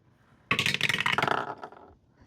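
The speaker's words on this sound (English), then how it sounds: "And then our second dice we roll" A die tossed onto a hard tabletop, a sudden close clatter followed by a run of rapid rattling bounces that fade out over about a second and a half, no talking.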